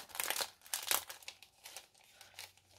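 Handmade paper card with cut-out foliage being opened, a few close, quiet crinkling and rustling bursts of stiff paper, fading to softer handling.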